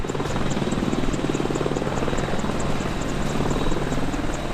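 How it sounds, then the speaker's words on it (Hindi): An Apache attack helicopter flies close by, its rotor chopping in a steady, loud, continuous beat with engine whine throughout and no voices. "अपाचे हेलीकॉप्टर को उड़ता हुआ टैंक भी कहा जाता है"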